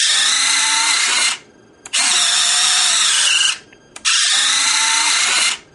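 Electric retractable landing gear on an RC P-47 warbird, switched from a DX6i transmitter: a loud, whiny motorised buzz that runs for over a second, three times in a row, each cycle separated by a brief click and a short pause.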